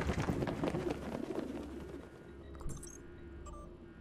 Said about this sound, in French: Test pigeon.